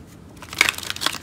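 Tarot cards being shuffled by hand during a pick-a-card reading, a few quick papery riffles and crinkly snaps, close and fairly quiet, with no talking.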